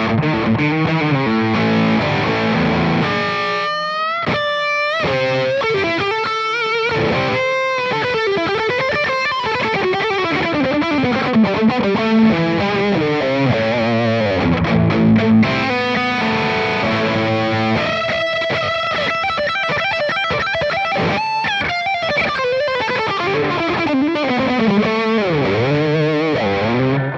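An electric guitar runs through a budget reverb pedal, a long stretch of distorted, effect-laden chords and sliding lead lines with a spacious echoing tail, loud and unbroken, no voices.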